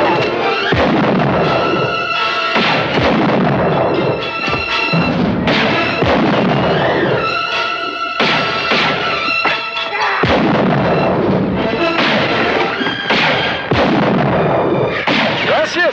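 Repeated loud gunshots and booming blasts from a western film crack in rapid bursts across the whole stretch, dense and harsh with only brief lulls.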